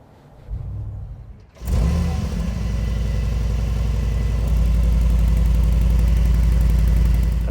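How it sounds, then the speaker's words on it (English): A 2025 Mercedes-Benz G63 AMG engine cranks and fires up after a brief quiet moment, then settles into a deep, loud, steady rumbling idle close by, with no talking. "So let's start the engine."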